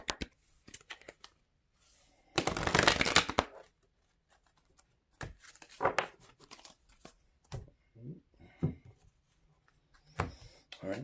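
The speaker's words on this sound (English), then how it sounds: "all right, let's do one more shuffle." Cards are shuffled in several riffling bursts, one long and loud, followed by softer flicks and taps of handled cards close by.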